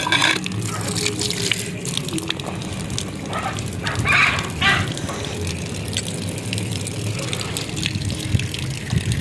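Water runs from a tap into a container at home, a steady rushing gush with a few louder splashy surges and a faint voice in the background.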